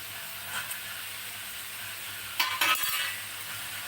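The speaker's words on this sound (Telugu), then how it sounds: "టమాటో వేసి కూడా బాగా కలిపేయండి" Tomatoes being stirred into a cauliflower curry in a pan, a soft steady sizzle with a brief burst of scraping and stirring near the end, fairly quiet and with no talk.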